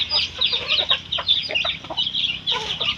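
Several chickens cluck in quick, close, irregular bursts that overlap one another and run throughout with no talking.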